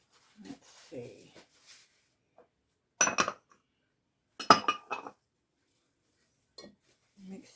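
Mixing corn casserole ingredients in a dish: a spoon clinks and scrapes against the dish in two short bursts, with faint voice murmurs and quiet gaps around them.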